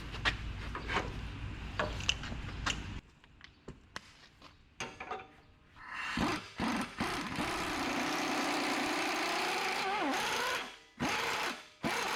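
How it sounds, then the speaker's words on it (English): An air gun drives a hex-ended reamer through a socket during a leaf spring build for a 1968 International 1300 4x4. A sustained, loud whirring runs from about six seconds on with brief pauses, after earlier scattered shop clatter. "we can use just a normal socket and just run it with the air gun"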